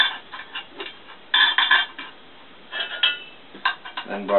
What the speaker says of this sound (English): I take bolts, push in bolts,